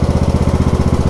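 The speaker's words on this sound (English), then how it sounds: "I'm sure you noticed that I just let the lawnmower idle" A lawn mower engine idles loud and close, a steady, fast rhythmic putter of evenly spaced pulses with no voices over it.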